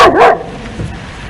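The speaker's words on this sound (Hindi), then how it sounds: "अगर ये कुत्ता भौंकेगा तो मैं इस पर चिल्लाऊंगा।" A dog gives one loud, close bark with a whimpering yelp, followed by quieter room sound in a domestic drama scene.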